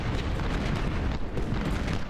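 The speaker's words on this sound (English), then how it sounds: "Everybody but Walton, focus fire on Gibson." Massed musket and artillery gunfire from Civil War troops in the strategy game Ultimate General: Civil War: a dense, continuous roar of booms and cracks, loud and unbroken, with no talking.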